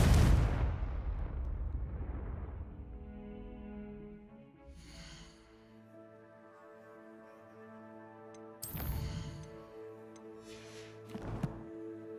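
A fiery Confringo spell explosion in Hogwarts Legacy, a loud booming burst at the start that rumbles and fades, followed by later sharp magical impacts over a sustained musical drone.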